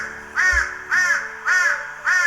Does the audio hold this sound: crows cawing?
yes